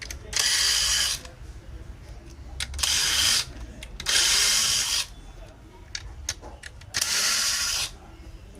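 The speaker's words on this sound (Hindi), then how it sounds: "अब हम इसके जो स्क्रू हैं उनको खोलेंगे।" Screws being removed from a Boston speaker during repair, heard as four close, loud bursts of whirring, ratcheting buzz, each about a second long, with quieter handling noises in the gaps.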